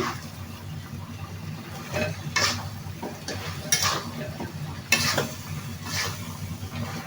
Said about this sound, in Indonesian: Nah, kita aduk-aduk lagi.